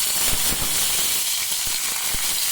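Curry leaves crackle and sizzle in hot coconut oil along with mustard seeds and dried red chillies, a steady close frying hiss with scattered sharp pops throughout.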